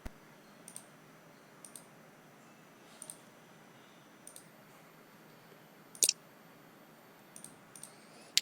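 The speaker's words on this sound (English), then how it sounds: "Right click," Sparse computer mouse clicks on a Windows 10 PC during a software install, each a crisp, faint tick, sometimes in quick pairs, spaced a second or so apart over a quiet room hum.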